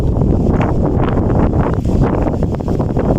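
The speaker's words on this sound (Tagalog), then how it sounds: "Lakas na hangin" Strong wind buffeting the microphone in a cemetery, a loud continuous low rumble with gusty surges throughout, no voices.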